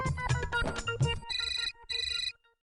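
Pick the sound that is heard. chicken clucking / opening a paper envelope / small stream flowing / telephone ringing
telephone ringing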